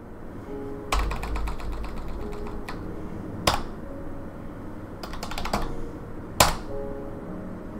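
Bursts of rapid clicky keystrokes on a computer keyboard, with pauses between and a couple of sharper key thumps, close by.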